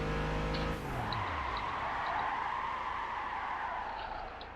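A car in the Gran Turismo 5 racing game slides under handbrake on a licence test, with a loud sustained engine drone and a steady tyre-skid hiss lasting several seconds after a falling engine note at the start.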